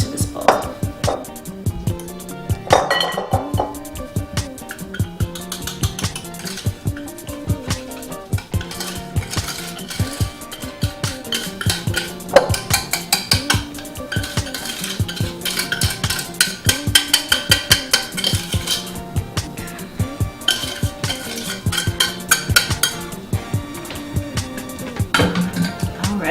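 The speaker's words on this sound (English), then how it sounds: "we're just going to stir that till it's combined, like so, and then transfer it to this bowl." A spoon or whisk works cornbread batter in a bowl on a cast-iron cornbread job, giving repeated light clinks and scrapes against the bowl under steady background music.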